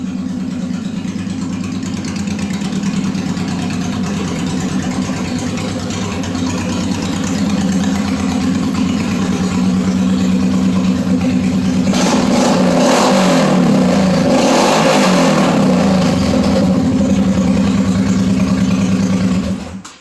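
A motorcycle with its exhaust baffles removed idles loud and rough, then revs up hard in the middle before settling back to a steady, uneven idle.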